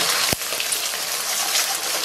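Eggs fry in an oiled wok with a loud, dense, continuous crackling sizzle after a sharp thump as they land, and no voice is heard.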